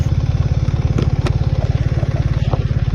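A BMW R1300 GS motorcycle engine runs close by with a steady, pulsing low throb at a fast, even rhythm, loud and alone with a couple of faint clicks.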